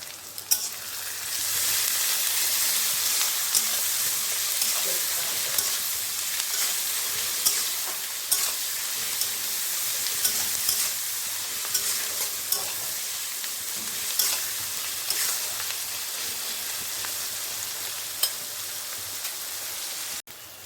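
Onions sizzle loudly in a hot pan while being stirred, a dense continuous frying hiss with occasional scraping and clinks from the spoon, close-up and with no one talking.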